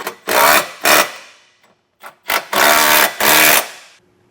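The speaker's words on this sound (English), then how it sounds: "we'll take an 18mm socket and snug them down" Nuts on a trailer hitch receiver being snugged down with an 18mm socket on a 2020 GMC Acadia, heard as several loud, close bursts of driving and ratcheting separated by short pauses, with no talking.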